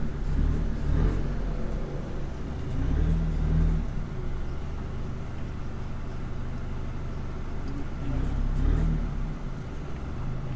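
A car drives on a busy road during a tire test, its engine and tire rumble steady and close, swelling briefly at a few moments as it accelerates, with no talk over it.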